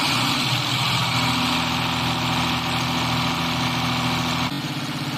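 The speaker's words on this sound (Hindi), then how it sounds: "अब चलते हैं इसको स्टार्ट करके चेक करते हैं।" A diesel pump-set engine, freshly serviced with oil and coolant, runs at a steady idle, a loud continuous low rumble and drone that shifts slightly in tone near the end, with no voices.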